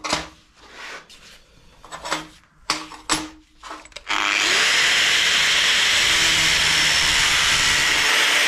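A few clunks and handling knocks, then a power tool starts and slices into a metal bracket with a loud, steady, harsh grinding whine that continues to the end, close up and without talk.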